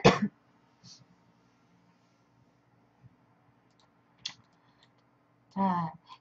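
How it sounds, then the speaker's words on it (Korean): A few short, isolated coughs and throat-clearing bursts break up an otherwise quiet room, with a longer, harsher cough near the end. "기침이 너무 심해서"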